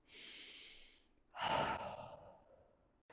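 Quiet, close breathing during a Pilates Reformer stretch: a soft breath in, then a fuller sighing exhale, with no talk.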